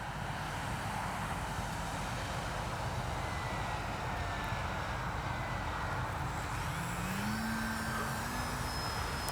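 A Dynam DHC Beaver RC airplane with landing flaps down makes an extended touch and go, its small electric motor humming steadily at moderate distance with a rising pitch sweep near the end.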